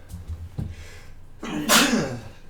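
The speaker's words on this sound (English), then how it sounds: "Excuse me, sorry about that. Sneeze attack." A single sharp sneeze bursts out close to the microphone after a brief breathy intake, then fades.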